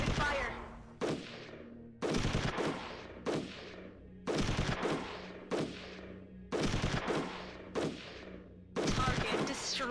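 Repeated loud volleys of gunfire in the strategy video game Shadow Empire, coming as roughly six dense bursts of rapid shots separated by brief pauses.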